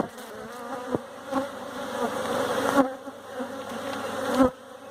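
Honeybees buzzing in a hive, a dense close swarm drone with individual bees swelling past, loudest around a few passing moments, no talking.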